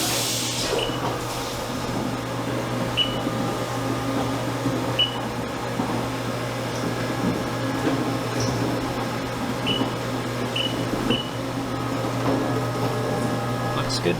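A CNC machine cuts a lockbar insert for a knife, running as a steady mechanical hum with a constant drone and occasional faint high ticks, with no clear talk over it.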